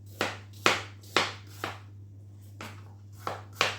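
A knife chops apples into chunks on a cutting board for turnovers, about seven sharp distinct thwacks in an uneven rhythm, close and clear against a quiet background hum.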